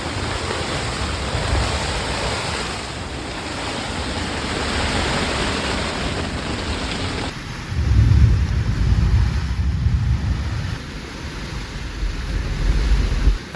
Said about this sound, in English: Pretty violent thunderstorm rolling over us.